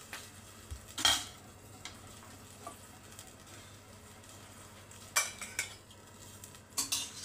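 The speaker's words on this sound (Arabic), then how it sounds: "دابا ان شاء الله غادي نهز مريقه من الطاوه" A ladle scraping and clinking against a pan while broth is scooped out for a lamb and molokhia tagine, with a few sharp metallic knocks amid a faint kitchen hum, quiet and close.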